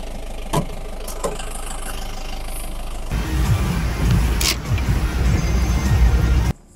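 A car engine runs steadily nearby, a low continuous idle-like rumble that grows fuller and louder partway through, as if the vehicle pulls up or revs, then cuts off abruptly near the end.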